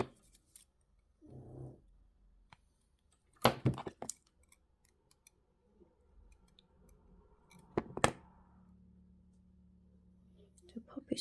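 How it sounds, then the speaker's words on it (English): Small wire cutters snip the tail end off a wire-wrapped pendant, giving a couple of sharp, quiet clicks in a hushed room with faint handling noises. "we need to cut that little tail end off"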